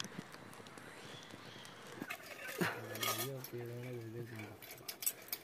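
Pots and utensils clinking while cooking in the jungle, scattered light metallic taps and clatter, with people talking over the middle stretch.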